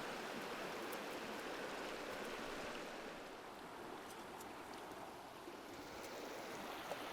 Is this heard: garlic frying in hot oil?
no